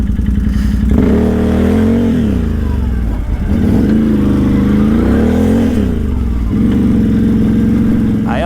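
A Can-Am Outlander 800 ATV engine revs hard on a test ride, loud and close, rising and falling in pitch through several throttle pulls with steady mechanical drone throughout.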